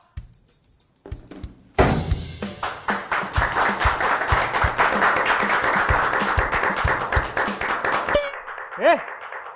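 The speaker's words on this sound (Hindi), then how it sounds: "ताली क्या बजा रहा है?" Applause builds quickly into dense, sustained clapping from a group, close and loud, then stops abruptly and a brief voice follows.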